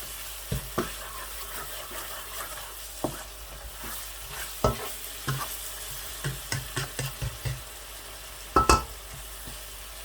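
Ginger paste for msalha chicken fries in a pan while a utensil stirs it, giving a steady low sizzle broken by repeated scraping knocks that grow busier toward the end, close and without speech.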